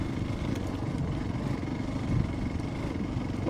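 A motorcycle engine drones steadily at a low, rough pitch on an off-road track in East Sikkim, running continuously without pauses, fairly close.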